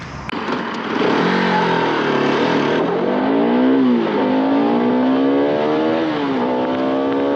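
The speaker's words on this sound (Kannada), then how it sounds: "ಥ್ರಾಟಲ್ ರೆಸ್ಪಾನ್ಸ್ ಮಾತ್ರ ಸೈಕ್ ಆಗಿದೆ ಅಲ್ಲ ಗುರು ಈ ಗಾಡೀಲಿ" A BS3 Bajaj Pulsar RS 200 sport motorcycle revs hard after a quick start, its loud, close engine climbing and falling in pitch through sharp throttle blips, then holding a high, steady buzz.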